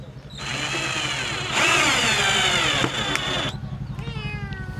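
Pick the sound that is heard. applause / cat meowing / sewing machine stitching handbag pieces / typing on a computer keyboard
cat meowing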